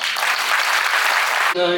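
Loud, dense audience applause fills a youth convention marking a silver jubilee celebration, steady and sustained before cutting off abruptly into a brief tonal sound.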